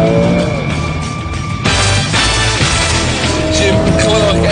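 A Porsche GT3 engine at speed on a race track, loud and close with a steady drone that shifts in pitch as the car brakes into a double right-hand corner, with a voice talking over it.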